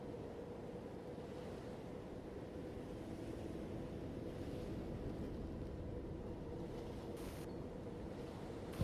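Stormy ocean ambience plays behind a tabletop roleplay scene, a constant low roar of surf and wind rumbling evenly throughout with no voices over it.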